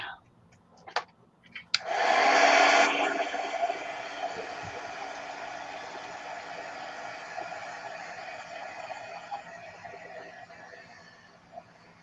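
A hair dryer or heat tool blowing on freshly painted craft work switches on after a few soft knocks, then runs as a loud, steady whooshing roar that gradually settles and continues for about ten seconds with no talk.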